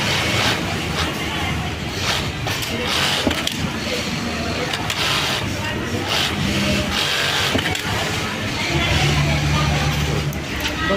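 An industrial sewing machine whirs and rattles continuously in a garment workshop, with mechanical clatter from nearby work. People talk intermittently over the noise.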